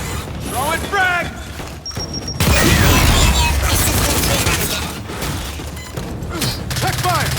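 In the video game Gears 5, a frag grenade is thrown and goes off with a loud blast amid clanking mechanical game sounds, with voices talking over the action.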